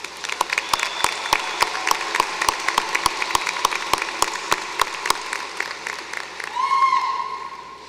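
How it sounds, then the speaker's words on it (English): At a spring 2022 university commencement for the College of Arts and Sciences, sparse, crisp claps ring out at a steady, even pace over a soft crowd murmur, tapering off before a sustained tone rises near the end. "Please give our faculty a well-deserved round of applause."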